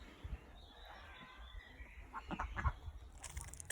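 Ducklings in a pen making scattered quacking and peeping calls, soft and fairly close, growing busier toward the end.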